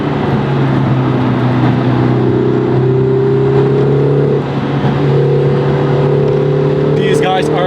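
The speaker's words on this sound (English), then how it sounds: "Listen to these turbo sounds, by the way." A Lotus Emira First Edition drives through a power slide, its engine droning loudly with shifting tones and turbo whooshes while a person talks over it.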